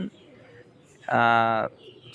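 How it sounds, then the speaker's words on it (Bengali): A single Pakistani pigeon coo, a short throaty warble lasting about half a second, heard close and clear against a quiet background. "কবুতার জোড়া ছিল খুবই সুন্দর মানের কবুতার"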